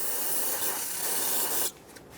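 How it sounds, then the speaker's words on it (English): Brake parts cleaner is sprayed onto the rear brake area of a 2014-2018 Chevrolet Silverado 1500. A close, steady aerosol hiss runs for nearly two seconds, then cuts off, leaving faint background noise. "Using some brake parts cleaner, clean the area."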